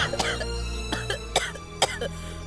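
A person coughs in a few sharp, separate bursts over a low steady hum, in an indoor film scene.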